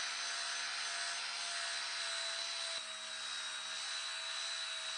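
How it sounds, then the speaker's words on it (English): A profile sander runs continuously on old wood, a steady high-pitched motor whine with a dense abrasive rasp, constant and fairly close, without any speech. "I'm also going to use the profile sander to clean up this one as well as the second one"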